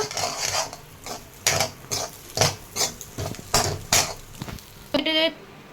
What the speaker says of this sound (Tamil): ஹை ஃப்ளேமில் வச்சு நல்லா மிக்ஸ் பண்ணிக்கோங்க